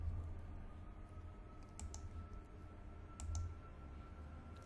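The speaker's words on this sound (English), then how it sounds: "I can right click" A computer mouse is right-clicked a couple of times, producing faint, brief clicks over a low steady room hum with no talking.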